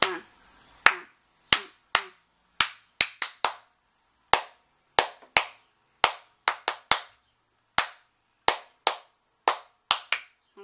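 Hands clap out a rhythm, sharp and close in an otherwise quiet room, sounding as single claps and quick pairs in a repeating syncopated pattern.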